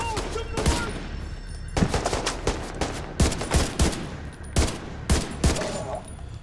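Gunfire in The Division 2, with bursts of automatic shots from a recoiling rifle repeating through the clip, each volley sharp and loud, with short pauses between them.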